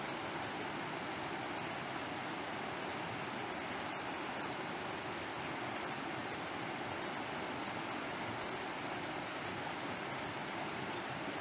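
Rushing river flowing steadily at a quiet level, a broad, even hiss of water with no breaks or other sounds.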